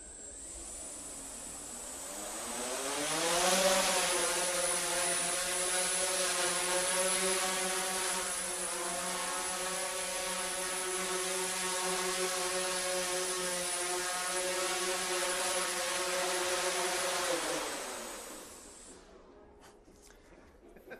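A small drone spins up and lifts off, its rotors a steady, loud high-pitched whine with layered harmonic hum that holds for about fifteen seconds before winding down and fading.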